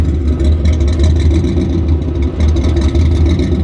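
A fire-damaged 1000hp race car engine runs loud and close with a deep, rough, steady rumble that swells slightly in small revs throughout.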